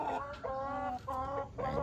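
Hens cluck continuously in a steady, overlapping chorus, close by, with repeated tonal calls rising over a busy farmyard background.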